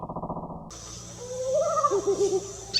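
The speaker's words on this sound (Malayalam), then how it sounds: "ദൂരെ എവിടെയോ കാലൻ കോഴി കൂവി." A kalan kozhi night bird calls from a distance with a few rising, wavering hoots over a low, eerie musical drone in a spooky horror-story setting.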